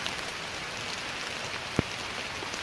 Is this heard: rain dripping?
yes